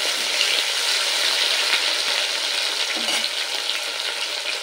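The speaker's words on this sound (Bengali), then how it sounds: "তো টমেটোটা দিয়ে একটু টমেটোটা নেড়ে নেব।" Chopped tomato fries in a pan for a fish curry, with a loud, constant sizzle and faint scraping as it is stirred.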